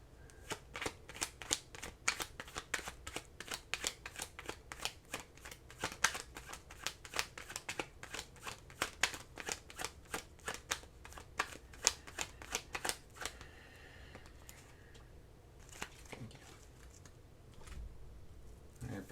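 A deck of tarot cards shuffled by hand at close range, with a quick run of crisp riffling snaps for most of the time before it tapers into softer handling noises.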